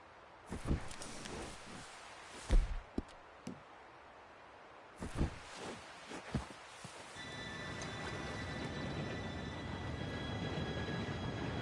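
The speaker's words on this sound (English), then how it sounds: "Train should be here any minute now." A train approaches with rising rumble and rattling wagons building to a sustained loud roar with squealing tones, after earlier scattered clattering knocks and thumps.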